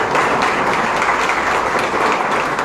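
Loud applause from the audience at an academic ceremony in Pativilca, a dense, steady wash of clapping close by that holds at full strength for the whole stretch with no talk.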